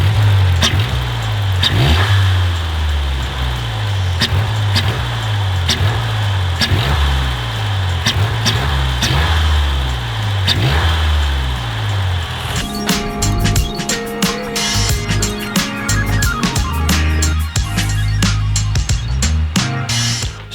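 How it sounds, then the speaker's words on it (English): A Mazdaspeed 3 fitted with a new aftermarket intake revs repeatedly in loud, rhythmic surges, then settles into a rapid crackling, fluttering idle near the microphone, with no one speaking. "Now we're finally making some cool noises with the MazdaSpeed 3."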